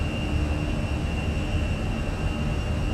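Fenix A320 jet engines at takeoff power in Microsoft Flight Simulator give a steady, broadband roar with a constant high whine running through it, loud and unbroken throughout.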